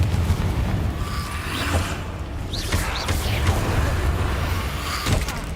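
Confringo explosive spell blasts crackle and boom in Hogwarts Legacy combat, a few whooshing bursts over a steady, dense rumble of battle noise.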